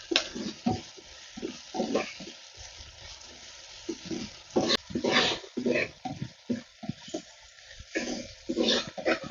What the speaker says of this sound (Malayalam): അപ്പോൾ നമ്മുടെ സവാളയും പച്ചമുളകും ഇഞ്ചി വേപ്പിലയൊക്കെ നന്നായിട്ട് വഴന്നിട്ടുണ്ട്